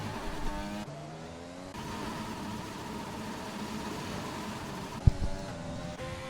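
A Formula 1 car's engine drones in a sustained, buzzing rev in the F1 racing game at Baku, steady pitch shifting mid-way, with a brief sharp knock near the end; no talk.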